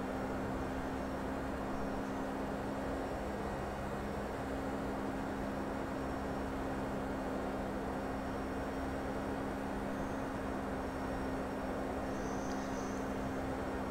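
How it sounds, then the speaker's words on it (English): Steady broadband airflow roar with a low constant hum inside a FedEx Express Boeing 757 in X-Plane 11, unchanging and sustained for the whole stretch, with no talking. "you can hear the wings flexing as the plane moves through the air"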